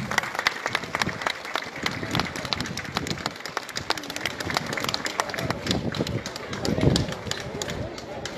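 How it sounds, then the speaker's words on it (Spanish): Applause from spectators at a 2018 civic parade in Callancas, a dense rattle of many hands clapping steadily, with a crowd murmuring and a voice underneath. "¡Aplausos!"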